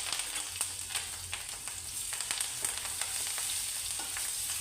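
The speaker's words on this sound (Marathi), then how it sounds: "थोडंसं मी फोडणीमध्ये आलं घालते." Chili, curry leaves and ginger sizzle in hot oil tempering for upma, giving a steady, close crackling hiss with scattered sharper pops throughout and no talking.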